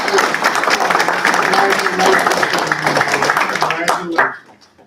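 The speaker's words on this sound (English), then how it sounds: "Let's give her a round of applause." A round of applause from those attending a public school board meeting, brisk, fairly loud clapping from a modest group that runs steadily and then cuts off abruptly near the end, leaving quiet room tone.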